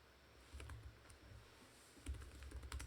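Someone types on a computer keyboard in two quick bursts of clicking keystrokes, separated by a short pause, fairly close and not very loud, with no talking.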